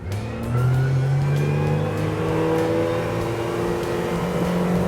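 A Smokercraft Osprey 172 motorboat engine roars and revs hard as the boat powers up from rest, the pitch climbing steadily and staying loud throughout.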